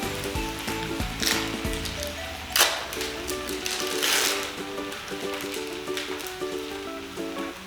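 Steady sizzling crackle of buttered bread frying in a hot pan, close and continuous, with brief clatter and faint music or tones underneath.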